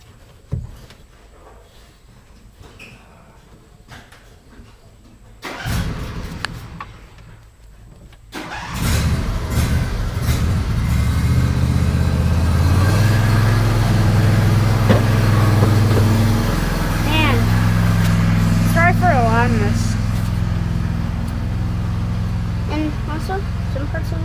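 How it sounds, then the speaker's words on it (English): A tractor engine cranks and catches, then settles into a loud, steady idle close by, after a quieter opening with a brief knock; someone speaks over the running engine. "Will it mess you up if I start my tractor here?"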